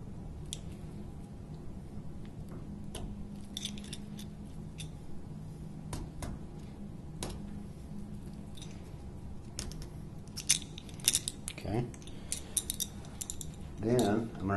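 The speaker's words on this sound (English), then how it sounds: "take a razor knife and the ring cut that's closest to the end of the cable, I'm just going to peel the jacket down to the surface of the armor" A razor knife ring-cuts a fiber drop cable's outer jacket, which is then peeled down to the armor: faint, intermittent clicks, scrapes and rustling handling sounds, quiet and close, with a few sharper snips toward the end.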